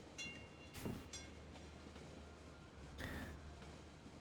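A tram in the Cities Skylines city-building game rolls past with a steady rail rumble and a couple of brief hissing bursts, fairly quiet and unaccompanied by talk.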